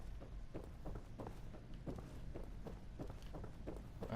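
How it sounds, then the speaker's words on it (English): Footsteps in the Fallout 4 video game, a run of steady, evenly spaced thuds that keep up across the whole stretch and sound fairly close, over a low background rumble with no talking. "I hear footsteps."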